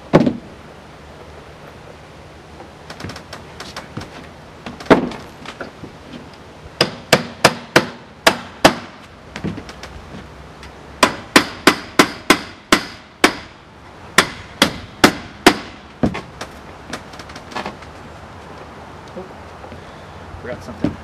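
A hammer taps metal roofing drip edge into place with sharp, close strikes in irregular bursts of quick blows separated by pauses.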